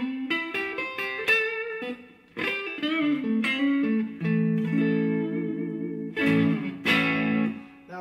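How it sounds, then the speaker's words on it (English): Electric guitar played through a Laney Cub Supertop amp with solid-state reverb, with chords and single notes ringing out and trailing off in a lush reverb tail, loud and close with no talking. "the reverb is solid state, but it's a very, very nice reverb"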